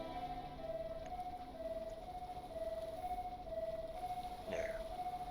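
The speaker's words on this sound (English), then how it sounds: "Fortunately, this is a very soft siren, so we can leave it running." Soft wailing siren on an antique fire truck in the Stormworks game, a faint steady two-tone cycle repeating about every second, running alone at low level.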